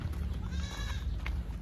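A goat bleats once on a farm field, a short wavering cry heard over a low rumbling background.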